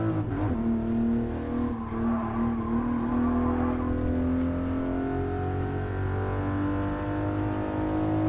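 A Toyota Mark V Supra racing engine in Gran Turismo Sport drones steadily and loudly, holding a sustained, slowly rising pitch for several seconds with a brief tyre-skid edge near the start.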